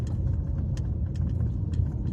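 Car engine rumble heard from inside a car driving around Brussels, a low steady drone with faint intermittent ticks and knocks above it, no talking.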